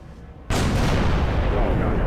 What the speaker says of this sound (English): This one is supposed to fire kind of a Wraith Mortar type projectile